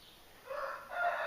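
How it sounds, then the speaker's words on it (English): A rooster crows once, a short rising call heard at a moderate distance with no other sounds around it. "that cockerel drives me nuts"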